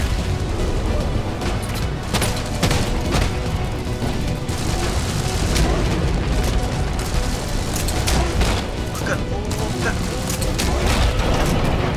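Explosions and heavy gunfire in the video game Deep Rock Galactic, a loud, continuous barrage of booms and blasts with mechanical clatter, with voices talking over the chaos.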